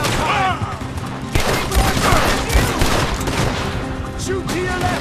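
Heavy gunfire rings out in a Red Dead Redemption 2 shootout, a dense, continuous fusillade of overlapping shots and booms that stays loud for the whole stretch.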